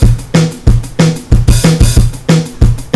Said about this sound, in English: I made this little kind of dance beat here with the drum kit.